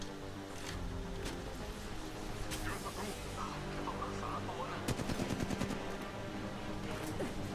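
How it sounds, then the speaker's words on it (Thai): Spitfire light machine gun fire in the Apex Legends Mobile game: quiet distant bursts early on, then a sharp rapid burst of shots near the end, over a busy game soundscape with faint voice chatter. "กำลังยิงต่อสู้อยู่"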